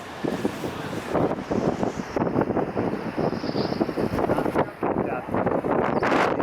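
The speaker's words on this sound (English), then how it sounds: "this wind is something crazy" A 60-knot gale blasts across the coast at Jeffreys Bay among big surf, a loud, continuous roar of wind on the microphone with brief voices heard over it.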